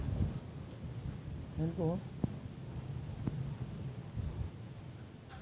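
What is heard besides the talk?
strong wind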